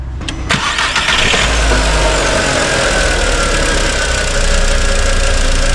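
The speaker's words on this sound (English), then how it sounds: "Cranking is normal." A 2004 VW Jetta 1.8T engine cranks under the starter after a sharp click, then turns over into a loud, steady, rumbling run close by, with no talking.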